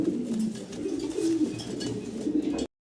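A lively pair of pigeons cooing close by, with low, rolling coos running almost without pause before the sound cuts out abruptly at the end, and no talk.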